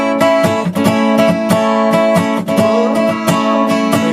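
Acoustic guitar plays part of a song in an unplugged style, with loud, steady strummed chords driven by rhythmic percussive accents.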